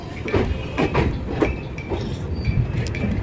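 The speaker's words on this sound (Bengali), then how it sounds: "আমাদের ট্রেন এখন দিল্লির কাছাকাছি এসেই গেছে" An LHB-coach Netaji Express runs near Delhi across the Yamuna bridge on the Howrah to Kalka route. A loud interior rumble carries rhythmic wheel clatter and faint metallic clinks throughout, with no speech.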